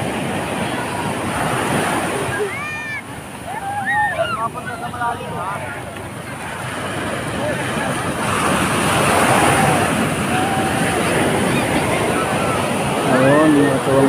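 Ocean surf breaks continuously on a beach with a loud, steady wash and wind noise, while people talk and shout excitedly nearby.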